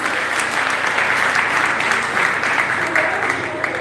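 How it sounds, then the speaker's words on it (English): An audience at a women and young girls engagement event gives loud, steady applause for Professor Afe Ekunda, a dense, continuous wash of many hands clapping close by throughout. "Can we give her a round of applause?"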